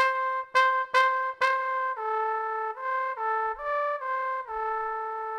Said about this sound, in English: There is the flutter tongue.